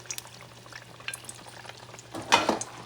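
Potatoes frying in oil for Puerto Rican carne frita give a soft, steady crackle close by, with a brief louder sizzling burst near the end.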